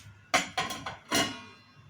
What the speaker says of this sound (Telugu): దీని మీద మూత పెట్టుకుందాం